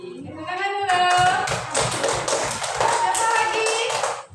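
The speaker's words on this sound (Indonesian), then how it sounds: "Tepuk tangan dulu." Schoolchildren in a classroom clap their hands together, a lively burst of overlapping claps lasting a few seconds, with young voices mixed in.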